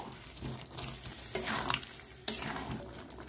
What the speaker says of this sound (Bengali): ধনে পাতাটা দিয়ে দেবো, ভালো করে নেড়ে কষে নেব।